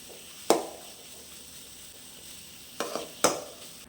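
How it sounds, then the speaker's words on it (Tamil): Raw mango pieces sautéing in oil with asafoetida, a faint background sizzle punctuated by three or four close, sharp scrapes of a spoon stirring in the pan. "கொஞ்சம் பெருங்காயத்தூள் சேர்த்து இதை நல்லா வதக்கிடலாம்"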